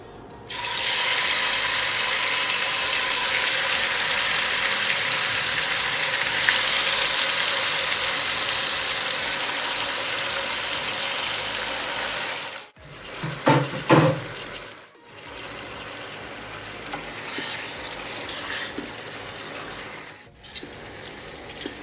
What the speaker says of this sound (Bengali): গরম হয়ে গেছে আমি এখন মেরিনেট করা মাংসটা দিয়ে দিচ্ছি